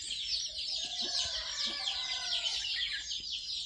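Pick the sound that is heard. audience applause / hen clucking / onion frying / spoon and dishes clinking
hen clucking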